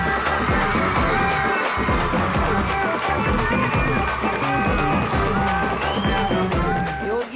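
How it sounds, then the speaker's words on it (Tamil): Studio audience on a Tamil TV comedy show claps and cheers for performers Raja and Yogi, a dense, loud burst of applause with whoops sustained across the whole stretch, easing slightly at the end. "ராஜா யோகிக்கு மீண்டும் ஒரு பலத்த கைத்தட்ட"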